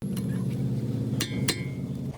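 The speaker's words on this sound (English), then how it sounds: "we're going to give it 1 or 2 taps with the hammer" A hammer gives one or two sharp taps to the brake rotor screw on the front hub of a 2016-2021 tenth-generation Honda Civic, two crisp metallic knocks over a steady low hum.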